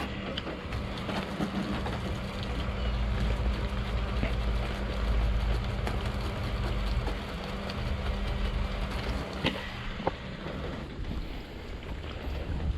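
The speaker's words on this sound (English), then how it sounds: "you guys got to basically see the full life of a good 12-volt pump" A 12-volt soft wash pump runs continuously, a steady dense whirring hum with a faint labored strain, close and constant with small clicks, easing slightly near the end.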